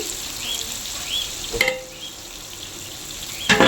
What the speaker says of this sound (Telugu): ఈ విధంగా అయితే ఆనియన్స్ని బాగా ఫ్రై అవ్వనివ్వాలి